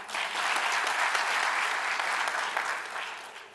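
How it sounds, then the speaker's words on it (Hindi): An audience of NSS volunteers gives a steady burst of clapping at an event with the Vice President, dense and sustained for several seconds before tapering off slightly at the end. "आपसे तालियां खूब बजवा दी"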